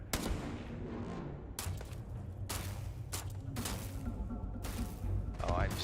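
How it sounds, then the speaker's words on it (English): Sci-fi gunfire in Starfield: several sharp, loud shot bursts separated by short pauses over a busy background, with a faint voice present. "Oh, I'm so not good at shooting in this game."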